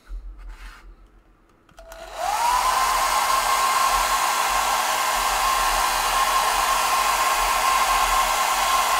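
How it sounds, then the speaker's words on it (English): After some quiet handling noise, a hair dryer switches on to dry wet paint pigments, spinning up quickly into a loud, steady whooshing drone with a constant motor whine that continues to the end. "now I'm just going to dry this with the hair dryer so it's a little faster."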